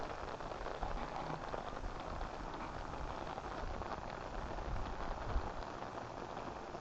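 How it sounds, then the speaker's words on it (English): Steady rain falling in cold, green Tanzanian countryside, a soft, even hiss of drops on surfaces that continues without pause, fairly faint and with no voices. "it's still raining"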